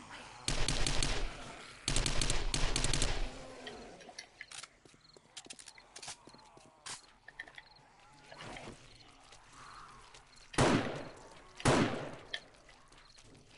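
Exploding bolts fired in the game 7 Days to Die, heard as rough bursts of blasts and bangs, some sustained and some single, loud over quieter game ambience with no talk.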